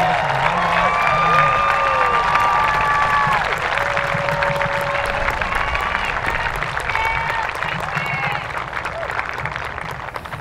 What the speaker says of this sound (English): I think Mr. Joseph can give us a round of applause